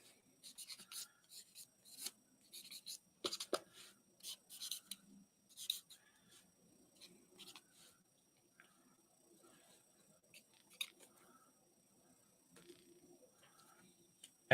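A fat Sharpie marker dragging across the paper of an activity book, close squeaky scratching strokes in irregular bursts, with soft background sounds between the strokes.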